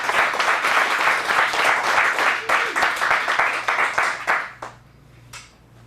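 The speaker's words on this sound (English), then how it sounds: "Let's get a big round of applause." Dense crowd applause after an adult dramatic acting showcase performance, with steady clapping that fades out near the end, leaving a quieter tail.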